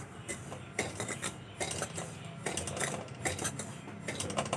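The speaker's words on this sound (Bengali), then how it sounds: "অল্প হিটে সুজি ভেজে নিতে হবে।" Semolina is being dry-roasted over low heat in a pan and stirred with a metal utensil. Rhythmic scraping and clinking of metal on the pan repeat in quick bursts, close up, with no voices.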